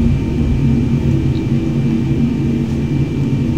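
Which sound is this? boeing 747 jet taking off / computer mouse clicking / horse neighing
boeing 747 jet taking off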